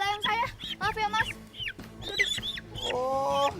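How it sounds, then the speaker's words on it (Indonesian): Chickens cluck and squawk in a run of sharp calls close by, mixed in with a person talking over them. "ini ayam saya Mas, saya mau ambil ayam saya"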